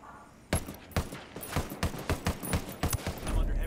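Sharp gunfire in a Ghost Recon Wildlands PvP match, a string of distinct rapid shots spaced at an uneven rhythm, fairly close and moderately loud.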